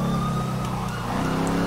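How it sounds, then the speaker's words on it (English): Police sirens in the video game GTA V wail steadily nearby, a sustained rising and falling tone heard over low traffic rumble, without talking. "Because those sirens are hella close."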